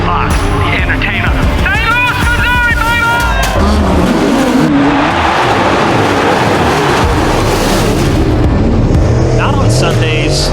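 Race cars roar around an indoor dome track during a race, engines loud and continuous throughout, with a crowd and an announcer's voice mixed over the steady mechanical din.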